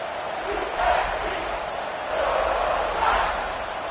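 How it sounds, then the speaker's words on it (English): A football stadium crowd roars in a steady broadband wash, swelling in two surges across the few seconds, fairly loud and continuous with no clear talk on top. "The roar of the crowd trying to fuel this defense to keep them pinned in their own end."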